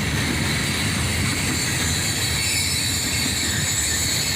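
Freight cars rumble past at close range in an unbroken, loud wash of wheel and rail noise with light squeal and rattle, the train's last stretch still going by.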